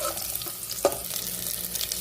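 Ginger sautés in a little hot cooking oil for ginisang pechay with sardines, giving a steady, moderate sizzle with a single sharp clink of a utensil partway through. No one speaks.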